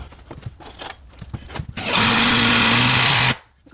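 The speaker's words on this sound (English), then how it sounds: "I'm going to put a screw in there to keep that there." A power drill drives a screw into the framing of a shower niche being rebuilt, one loud sustained whir of about a second and a half after some light handling knocks, then it stops abruptly.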